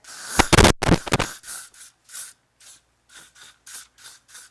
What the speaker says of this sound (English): I'm just gonna shake it, and I'm gonna spray it on my hair